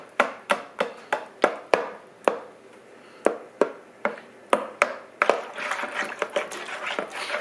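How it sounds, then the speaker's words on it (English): Shortening for yeast dinner rolls chopped into smaller pieces, with a string of sharp knife taps on a board, evenly spaced at first, then quicker and denser near the end, close up with no talk. "I'm going to just chop it into smaller pieces to help it to melt"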